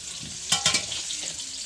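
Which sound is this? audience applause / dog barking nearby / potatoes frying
potatoes frying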